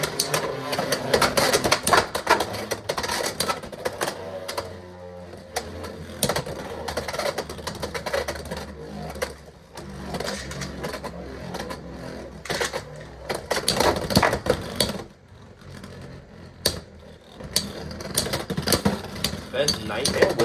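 Beyblade X tops spin and clash inside a plastic stadium during a competitive bout, a dense stream of rattling, scraping impacts and sharp collisions that runs continuously, with a commentator's voice over it.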